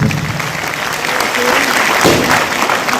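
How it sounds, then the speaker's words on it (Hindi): Loud, dense applause from a crowd at a Safe Shop business event fills the whole short stretch, steady and close, with faint voices mixed in. "एक जोरदार तालियां हो जाए।"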